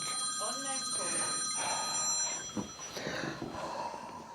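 A telephone bell ringing in a room, its trilling tones running under a man's speech.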